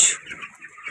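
Broiler chickens, undersized birds around 28 days old, cluck briefly in a poultry shed, a short close burst of calls with no talk.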